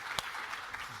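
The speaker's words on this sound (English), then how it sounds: "Let's give him a big round of applause" Brief burst of audience applause at an education keynote, a short even patter of clapping lasting about a second.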